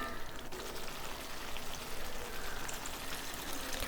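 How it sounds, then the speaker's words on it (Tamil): Tamarind water poured into a pan of eggplant thokku, a steady close hiss and splashing spread evenly across the whole stretch with no talk. "ஒரு சின்ன எலுமிச்சம்பழம் அளவுக்கு புளி எடுத்து புளித்தண்ணி சேர்த்துக்கோங்க"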